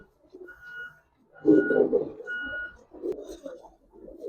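Pigeons coo in repeated soft bursts, nearby and fairly loud, with a steady whistle-like tone between calls; these are Giribaz colouring and racer pigeons.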